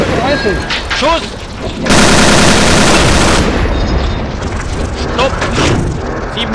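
A tank in the World War II game Steel Fury: Kharkov 1942, a Panzerjäger Tiger Ausf. B, lets off a loud, sustained burst of gunfire lasting over a second, with other battle noise and shouted voices around it.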